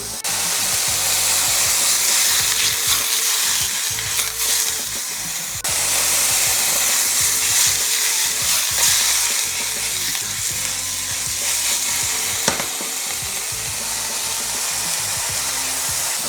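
A ribeye steak sears in a hot pan with a loud, dense, continuous sizzle and hiss that holds steady throughout, briefly dipping once partway before resuming at full strength.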